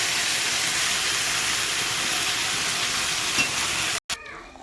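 Onions and a ginger-garlic-onion spice paste frying in a pan, a loud, steady hiss and sizzle going on without pause, then a brief break and a softer crackle.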